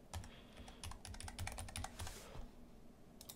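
Quiet, close typing on a computer keyboard, entering a password: a quick irregular run of light key clicks lasting a few seconds.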